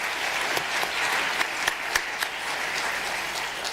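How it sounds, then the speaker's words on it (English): Symposium audience clapping for three speakers: a brief, moderately quiet round of applause in a hall, even and continuous with a few sharper claps standing out. "let's clap our hands together for the three speakers again"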